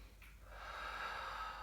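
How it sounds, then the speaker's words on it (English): A slow, deep breath drawn during a gentle yoga class for the shoulders, a soft airy rush swelling after a brief start and holding steady, close and quiet with no talking. "One more breath."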